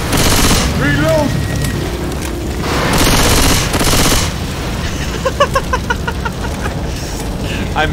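Gunfire in the zombie shooter Left 4 Dead 2: loud bursts of rapid shots and booms, then a run of sharp, evenly spaced single shots, with players talking over the action.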